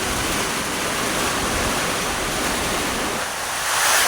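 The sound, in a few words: strong typhoon wind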